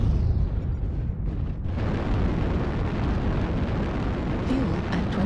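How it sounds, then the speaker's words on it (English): A loud, sustained explosive roar and rumble from an incoming missile impact in the mech combat game MechWarrior Online, a dense booming wash that fills the whole stretch without a break. "Warning, incoming missile."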